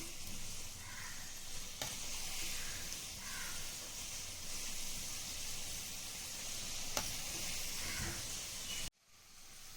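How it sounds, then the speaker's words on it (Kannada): Fried modak sweets for Ganesh Chaturthi being turned slowly in hot oil, a steady soft sizzle and hiss with occasional stirring clicks, which cuts off abruptly near the end. "ನಿಧಾನಕ್ಕೆ ಇದನ್ನು ತಿರುಗಿಸ್ತಾ ಸ್ವಲ್ಪ ಕೆಂಪಾಗೋವರೆಗೂ ಗೋಲ್ಡನ್ ಬ್ರೌನ್ ಬರೋವರೆಗೂ ಫ್ರೈ ಮಾಡ್ಕೊಳ್ಳೋಣ"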